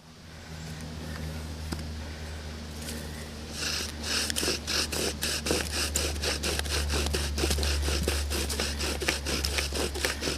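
A bow drill spindle burns in against a wooden board. Fast, rhythmic back-and-forth rasping and squeaking builds after a few seconds of low steady hum and continues closely to the end.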